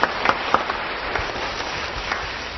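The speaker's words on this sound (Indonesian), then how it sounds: "Berikan tepuk tangan yang meriah buat Tuhan." A church congregation claps after a call to praise God, a dense patter of many hands at moderate distance with a few sharper close claps at the start, then settling into an even wash.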